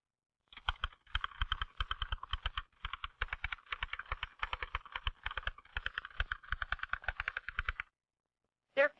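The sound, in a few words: typist typing on a typewriter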